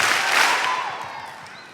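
A graduation crowd at the 2012 Marshfield High commencement gives a burst of loud clapping and cheering that fades steadily within a couple of seconds.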